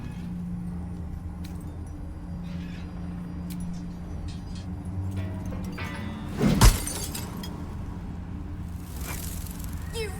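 Glass shatters once in Baldur's Gate 3, a sharp, loud crash cutting through a quiet low hum, followed by a brief tinkle of falling shards.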